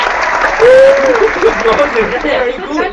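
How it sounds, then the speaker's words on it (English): Applause effect set off by a clap during a cricket-themed online hangout, a short burst of clapping and cheering that swells briefly and fades, with a voice talking over it. "Every time I clap, it applauses."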